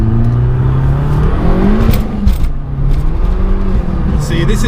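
An Alfa Romeo 4C Spider's engine revs hard from inside the car, loud rising and falling bursts of engine note with whirring and wheelspin, close and continuous for a few seconds.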